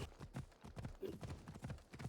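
Horse hooves clip-clop steadily in Assassin's Creed Odyssey, a quiet, even rhythm of about four to five soft thuds per second, close and alone with no talk over it.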